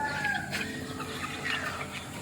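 A hen clucks nearby in short, throaty calls while being fed, with other fowl sounds mixed into a busy backyard background.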